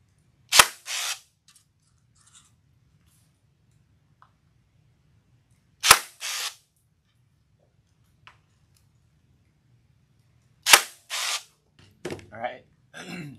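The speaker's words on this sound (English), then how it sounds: "we're gonna staple our greenery on there." A staple gun drives staples to fix greenery onto an everyday door hanger outdoors. There are three sharp, loud snaps spaced several seconds apart, each followed by a short rattle, with faint rustling and some handling noise near the end.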